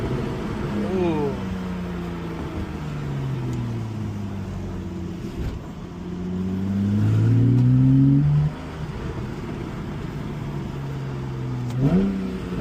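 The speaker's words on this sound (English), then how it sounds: "It's not a turbo, it's just a Carrera." A Porsche Carrera engine revs and accelerates from inside the car, rising and falling pitch sweeps through gear changes with a loud surge near the middle, while people talk over it.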